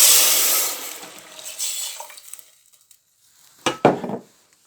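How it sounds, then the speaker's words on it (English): Vegetable stock mixed with beetroot cooking water is poured into a hot pot, bursting into a loud hiss that fades over a couple of seconds, followed by a few sharp clatters of a utensil against the pot. "I'm going to pour this in, but it's going to make a really loud noise"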